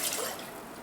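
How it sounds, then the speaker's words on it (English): A cup of water is poured into a saucepan, a short splashing trickle that is loudest at the start and then tapers off, close by and without talk. "in the saucepan you're going to add a cup of water"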